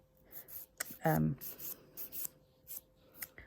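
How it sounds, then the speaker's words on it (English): Short scratchy rubbing strokes of a 180-grit nail file buffing an acrylic fingernail, quiet and close, in brief bursts with pauses and a faint voice in between. "I'm just getting a 180. And all I'm going to do is just buff round."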